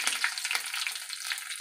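Hot ghee tempering with chili and curry leaves, a steady bright sizzle and crackle of frying spices, close and even throughout with small pops, no talking.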